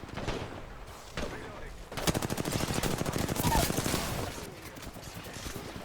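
Automatic gunfire in Apex Legends, with scattered shots first, then a sustained rapid burst in the middle that tapers off. The firing is loud and close.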